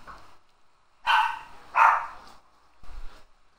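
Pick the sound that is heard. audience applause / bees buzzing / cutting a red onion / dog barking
dog barking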